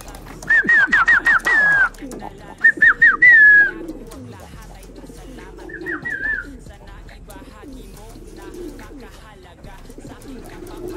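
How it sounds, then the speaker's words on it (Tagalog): Pigeons coo softly and repeatedly near their loft, low and close, while a few sharp, high whistled calls ring out near the start. "Kunin natin si Coco, mga kalapatids."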